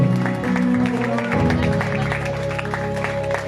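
A church congregation applauds and acclaims, a dense, continuous wash of clapping and crowd noise carrying steadily from start to finish, with voices mixed into the roar.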